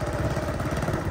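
A motorcycle engine chugs steadily nearby with an even low rumble and no speech over it.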